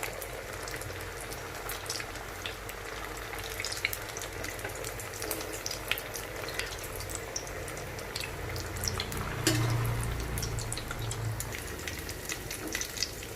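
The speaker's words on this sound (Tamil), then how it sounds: "எண்ணெய் நல்லா சூடாயிட்டு மீடியம் ஃப்ளேமில் வச்சு நம்ம பொரிச்சு எடுத்துடலாம்." Cutlets deep-fry in hot oil over a medium flame with a continuous, soft sizzle and bubbling that stays close and steady throughout, with a slightly louder burst of crackle partway through.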